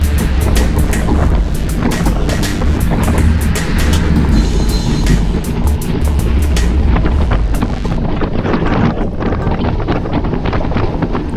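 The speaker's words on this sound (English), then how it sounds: "You hear the wind is picking up" Strong wind gusting steadily across the microphone during a group road bike ride on undulating terrain, a loud continuous broadband rush with no talking.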